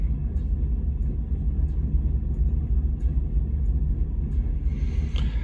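Steady low rumble of an engine idling with an AWE exhaust, long tube headers and an aftermarket cam, heard from inside the cab; a constant deep drone with no talking.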